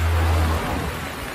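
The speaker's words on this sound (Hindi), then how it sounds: "कुछ देर के बाद बारिश शुरू हो गई।" Rain falls as a steady, dense hiss of broadband noise for a moment, with a low rumble at the start that fades, no voices present.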